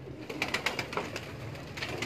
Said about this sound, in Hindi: अभी सबसे पहले हम आपको इंडियन कबूतरों का शौक करवाते हैं अली भाई के